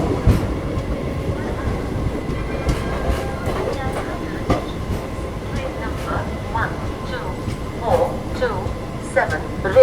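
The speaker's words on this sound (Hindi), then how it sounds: "हावड़ा राजधानी।" The Howrah Rajdhani express rushes past nonstop between Kanpur and Prayagraj with a continuous loud rumble and rhythmic clatter of wheels over rail joints, sustained close by throughout.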